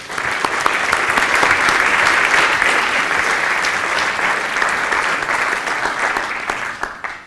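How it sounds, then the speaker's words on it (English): Sustained audience applause filling a school hall at a college open evening as head students are welcomed, steady and dense throughout before tapering off at the end. "a warm round of applause"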